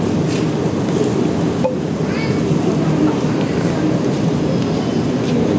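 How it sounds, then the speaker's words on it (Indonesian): The KA Majapahit economy train pulls into Madiun station, a steady loud rumble of wheels and carriages filling the scene with a faint squeal partway through. "Kereta api Majapahit masuk stasiun di Madiun"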